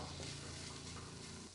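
Green pigeon pea grains with salt and turmeric sauté in a pan over a low gas flame, giving a steady, close sizzle with a low hum beneath it that holds for the whole stretch.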